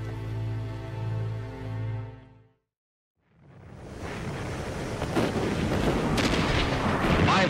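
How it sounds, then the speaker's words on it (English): Warships lay down a heavy artillery barrage during the D-Day landings: after a tonal passage and a short silence, a dense, roaring wall of booms and rumbling blasts builds and stays loud to the end. "Warships lay down a withering barrage,"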